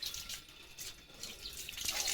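Water sprays from a hose pipe on a farm while Leo, a German Shepherd, plays in it: a soft, steady hiss of running water, faint and without talk.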